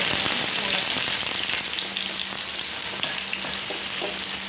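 A continuous, crackling sizzle of thin sago batter spread on a hot oiled griddle, steady and close, with faint scraping underneath.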